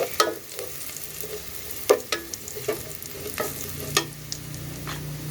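Onions frying in a small amount of oil for a goat meat and potato curry, with steady soft sizzling and several sharp scraping stir strokes, close and alone without talk.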